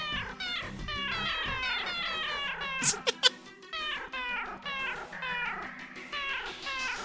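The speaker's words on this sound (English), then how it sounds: "We have a Meow button in this game, which I think is like such an amazing feature." Repeated cartoonish cat meows from the Meow button in the video game Dante's 9, a steady run of overlapping mews at fairly loud level, broken by a couple of sharp bright blips partway through.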